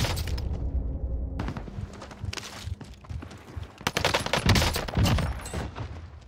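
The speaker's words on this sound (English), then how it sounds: "that guy just hit the craziest shot I've ever seen" Gunshots in Call of Duty on Rebirth Island: rapid bursts of automatic fire and heavy booming shots crackle in clusters, loud and close, with background battle noise between them.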